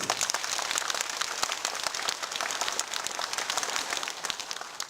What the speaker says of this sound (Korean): 고마워한다면 박수 한번 쳐주세요.